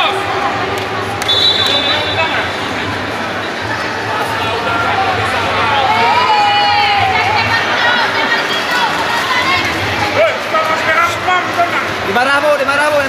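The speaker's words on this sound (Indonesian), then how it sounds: "Penonton semakin membludak." A crowd in the stands at an open volleyball tournament, a sustained roar of cheering and shouting with whistles and calls rising through it, loud and continuous, mixed with nearby talk.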